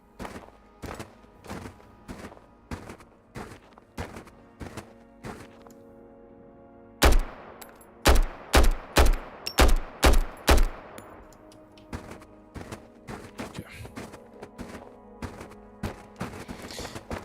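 Gunfire in the video game Road to Vostok: single shots spaced out at first, then a loud, tight string of heavy reports, then more scattered shots, with no talking.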